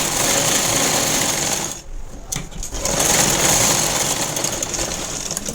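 Electric sewing machine stitching a plain blouse, a dense steady whir that briefly slows and pauses midway before running again at full speed.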